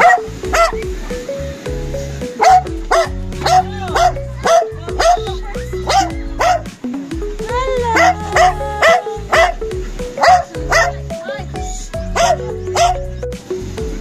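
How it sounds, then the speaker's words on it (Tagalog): A dog barks loudly and repeatedly in short bursts, close by, with brief pauses between volleys. "medyo maingay yung aso namin"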